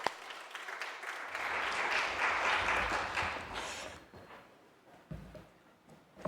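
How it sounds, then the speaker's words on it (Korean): A church congregation applauds the choir after a service performance, a broad wash of clapping that swells and then fades out over several seconds, leaving sparse scattered claps near the end. "박수 안 할 수가 없습니다"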